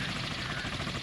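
Military helicopters in the naval combat game Sea Power, a steady broadband rotor and engine drone with low thumping, loud and continuous for a moment with no talk.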